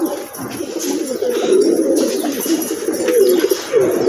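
Wild pigeons coo repeatedly in deep, throaty rolling calls, continuous and close, with no one speaking.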